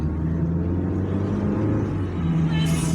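Car driving down Lucas Avenue near Rosendale, New York, a steady low engine and road rumble from inside the vehicle, continuous and fairly loud throughout with no talking.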